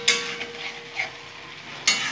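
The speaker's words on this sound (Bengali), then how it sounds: "খুব সুন্দর করে মশলাটা এখন কষে নেবো" Spice paste stir-fried in a pan for a small-fish chorchori with potatoes: a soft sizzle with a sharp scrape at the start and another near the end, close and fairly loud, with no voices.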